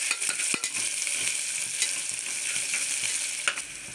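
Green chillies, sliced lengthwise, sauté in a pan with a steady close sizzle. Brief clicks from stirring break through it, and there is no talk.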